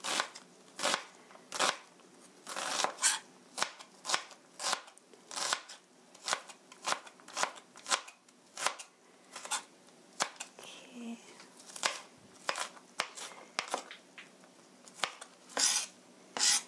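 A knife scores and thinly slices chicken on a board, giving repeated close crisp cuts in an uneven rhythm, quiet, with a voice talking softly in places.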